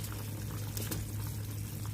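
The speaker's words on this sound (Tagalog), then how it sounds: "ilalagay na natin yung curry" Japanese curry being added to a pot of boiling water, a steady low bubbling simmer with faint splashes and stirring, quiet and close with no talk.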